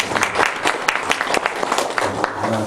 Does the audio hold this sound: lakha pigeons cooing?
no